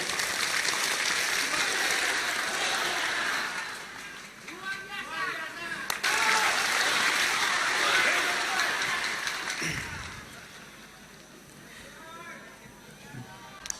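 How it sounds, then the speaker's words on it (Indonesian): An audience claps during an Indonesian religious sermon gathering. The applause rises as a broad wash of clapping, fades briefly, then swells again, with speech and crowd voices mixed in over it. "Tepuk tangan dong."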